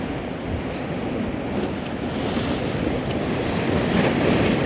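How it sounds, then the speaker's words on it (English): Surf breaking onto the shore at Hopton on Sea beach, blended with strong, roaring wind gusts across the microphone, a steady loud wash of noise with no speech. "you can see where the waves slopping on"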